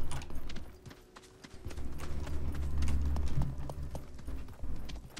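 Horse hooves clip-clop steadily in the video game Realm Royale, a rhythmic run of close hoofbeats with low rumbling background game sound.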